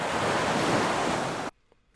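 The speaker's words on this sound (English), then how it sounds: "Let's find some water that sounds good that I could use with this." Water waves sound effect from an editing library, a loud steady broadband wash of surf that cuts off abruptly after about a second and a half, leaving near silence.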